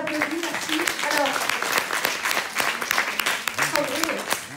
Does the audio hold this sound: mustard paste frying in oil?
no